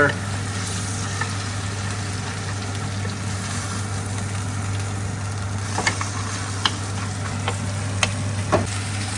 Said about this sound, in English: We're just browning that side nicely, like so.